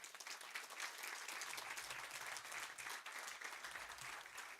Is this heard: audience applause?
yes